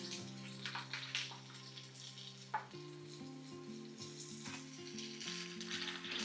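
Green chillies fry in hot oil for mirchi bajji with a continuous bubbling sizzle, faint and close, joined by a low steady hum and a couple of brief clatters.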